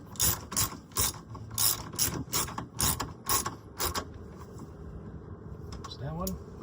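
A socket ratchet with an extension and a 12 mm socket, used while replacing the 12-volt battery on a Kia Niro EV. Nine or ten close, loud bursts of clicking come in quick succession, then a pause and a few quieter clicks, with someone talking.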